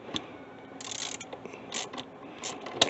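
Ratchet wrench tightening a 5/8 bolt on a Troy Bilt TB200 trimmer, a few quick close clicking bursts spaced out over a quiet background.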